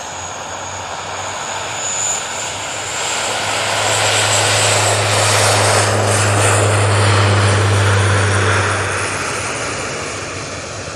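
Emirates Airbus A380 at Manchester Airport, its engines producing a loud, broad roar with a deep low drone that swells over several seconds and then slowly eases, heard alone from a moderate distance outdoors.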